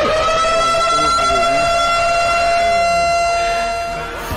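A loud, steady wailing siren in the Gaza Strip holds a sustained tone for several seconds, with faint voices underneath before it begins to fade.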